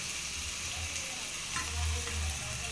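Ginger and garlic frying in hot oil for an Andhra-style palak onion curry, a soft continuous sizzle with faint stirring, close but quiet, no voices.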